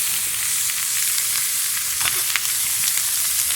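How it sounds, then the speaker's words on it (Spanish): Bacon sizzling on a disco over an outdoor fire, rendering its fat with a steady hissing crackle and a few faint pops, constant and moderately loud. "Lo primero que vamos a requerir es liberar la grasa del tocino."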